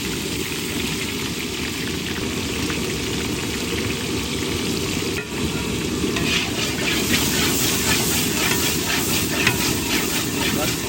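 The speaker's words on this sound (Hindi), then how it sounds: "2 किलो बारीक कटा हुआ प्याज इस टाइम पे इसमें ऐड करेंगे और इसको अच्छे तरीके से फ्राई कर देंगे" Two kilos of finely chopped onions fry in hot ghee in a large pot, giving a loud, dense, continuous sizzle and hiss that builds slightly, heard up close with faint stirring and no speech over it.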